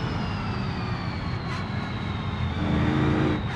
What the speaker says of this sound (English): It's keep hitting the rev limiter.